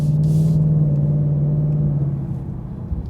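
A Ford Mustang 5.0 V8 engine gives a deep, steady rumble, holding a low drone for about two seconds, then eases off and settles into a rougher idle-like burble.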